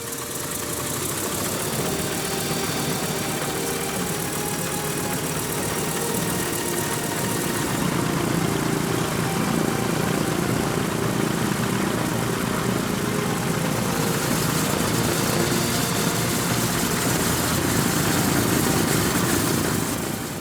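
A historic WWII aircraft's propeller engine, running without its cowling, roars continuously and loud, its steady drone thickening partway through as the power builds.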